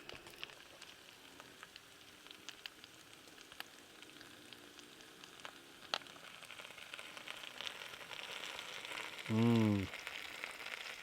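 Food and bacon sizzling on a camp griddle at a campsite, a steady quiet crackling hiss with scattered pops that grows slightly louder toward the end, plus a brief low hum near the close.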